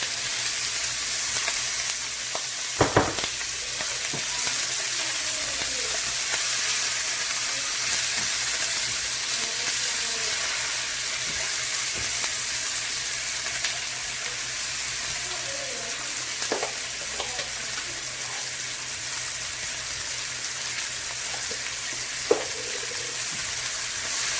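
Chicken and mushrooms fry on a high flame for a creamy penne with spinach, giving a steady close sizzle throughout with a few sharp utensil clicks and scrapes, and no talking.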